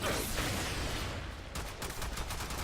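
A Lucian weapon basic attack in Warframe, heard as a dense, loud stream of rapid-fire shots that becomes more distinctly staccato partway through, with busy game noise around it.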